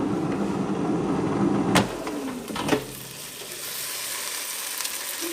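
Sausages sizzle steadily in a frying pan, a broad close hiss with two brief clatters partway through, then a softer, thinner sizzle carries on to the end.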